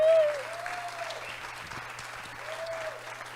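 A Portuguese-speaking audience at a talk applauds a trio, with steady, moderate clapping under a faint hum and a bit of background voice.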